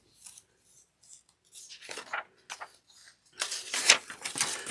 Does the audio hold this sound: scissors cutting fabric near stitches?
yes